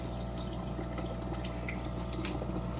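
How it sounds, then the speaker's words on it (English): Filtered water from an outside canister filter pours back into an aquarium tank, producing a steady, close splashing and trickling flow with no voices. "all the clean water comes out here and goes back into the tank."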